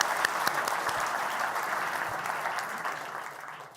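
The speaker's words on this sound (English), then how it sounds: "please give a warm round of applause to the two panelists today" Audience applause for two panelists at a financial innovation summit, a steady wash of clapping from a hall crowd that holds evenly and then begins to thin out and fade toward the end.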